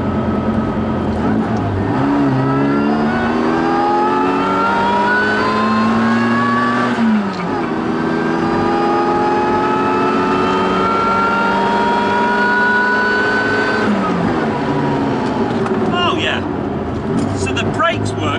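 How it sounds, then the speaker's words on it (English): A supercharged classic Mini engine, about 160 bhp, drones steadily, with a rising supercharger whine sweeping up through the revs and dropping at gear changes, loud and continuous. "I've a feeling the supercharger is going to be whining in a little while"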